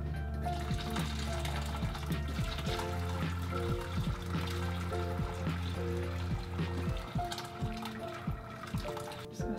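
Hot natural plant dye pours steadily through a strainer with a continuous splashing, gurgling flow, close by and fairly loud, without any talking.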